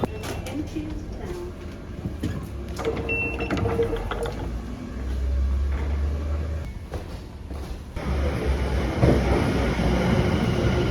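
A London Underground train ride heading toward the Emirates for an Arsenal match, with steady rumbling rail noise and rolling clatter that swells louder in the second half as the carriage moves.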